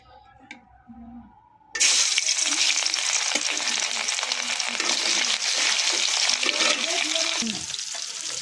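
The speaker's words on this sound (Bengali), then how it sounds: "এই তো এখন মাছ দিয়ে দিব, মাছ ভেজে নিব আমি।" Mirka fish frying in hot oil in a pan: after a quiet start, a loud, dense sizzle bursts in and holds steady to the end, with faint stirring knocks underneath.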